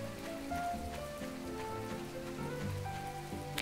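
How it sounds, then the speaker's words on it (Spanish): Steady rain patters across the whole stretch in the video game My Time at Portia, a dense hiss of drops with soft game music tones layered underneath and no voices. "Hace un día un poco asqueroso, ¿no? De tanta lluvia."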